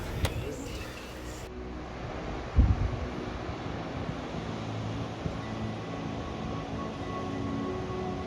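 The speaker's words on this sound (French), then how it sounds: "J'écoute les vagues. Ah. C'est beau les vagues." Steady broadband wash of surf rolling in, with wind rumble on the microphone and a brief louder thump early on.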